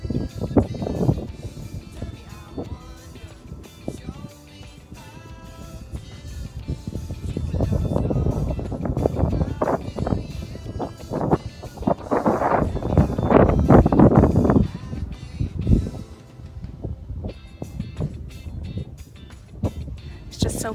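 Blustery, cold wind on a hillside walk buffeting the microphone in rising and falling gusts, loudest toward the middle, with low rumbling roar.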